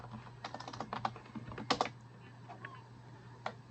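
Keys on a computer keyboard are tapped in quick bursts of clicks, a short flurry, a pause, then a few scattered keystrokes, close and clear with no voice.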